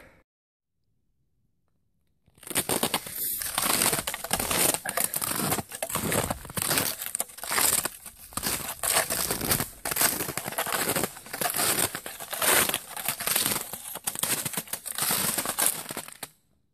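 A bushcraft tarp and Atuk tent are set up in deep cold, with sustained loud crinkling and rustling of tarp fabric after a brief quiet start, continuing in irregular bursts to the end.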